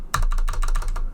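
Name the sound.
typing on Corsair computer keyboard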